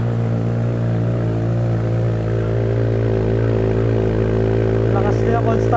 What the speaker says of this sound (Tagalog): Sound check natin guys, yung kanyang exhaust.